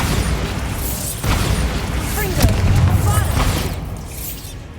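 A Bombarda blasting spell fires in Hogwarts Legacy, a booming burst with crackling debris layered over a dense game soundscape, loud and close, followed by a rumbling tail that fades out.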